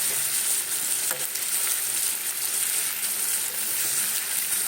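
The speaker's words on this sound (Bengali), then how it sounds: "এইভাবে রয়ে বসে আমি ভেজে নিই।" Chicken pieces frying in refined oil, a steady, dense sizzle and crackle that runs unbroken throughout, with a faint stir or two.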